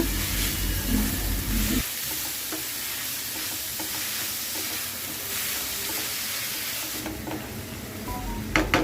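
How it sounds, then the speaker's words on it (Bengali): Potatoes for aloo bhaji frying in an uncovered pan with salt and turmeric give a constant, close, hissing sizzle with faint stirring scrapes. The tone shifts abruptly early on, then the sizzle carries on evenly throughout. "এই তো আলুটা একটু ভেজে নিচ্ছি"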